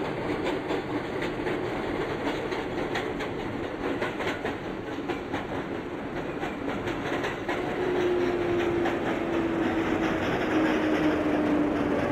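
A Parkchester-bound 6 local subway train, an R142A in the OpenBVE simulator, runs steadily with a continuous rumble and rhythmic clickety-clack of wheels, and a faint whine rises partway through.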